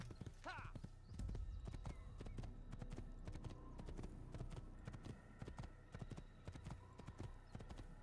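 Horse hooves clip-clopping steadily while riding in a video game, a continuous close rhythm of hoofbeats with a brief whinny near the start and someone talking over it.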